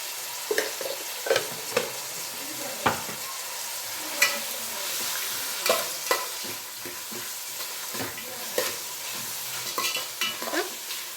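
Tomato chitranna rice mixture being stirred and fried in a pan: a steady sizzle with repeated scraping and clinking strokes of the spoon at an irregular rhythm, close and moderately loud.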